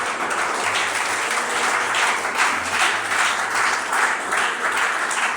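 A church congregation applauds during a sermon, a dense and loud, sustained roar of clapping with a faint low hum running beneath it.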